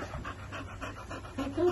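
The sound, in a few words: dog panting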